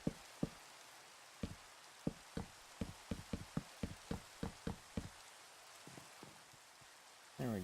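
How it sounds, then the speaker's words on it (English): Rain ambience playing on a computer, with a series of sharp, close knocks or taps landing in an uneven rhythm over a steady soft patter, and no one talking. "But no one's here to tell me to turn off the rain, so deal with it."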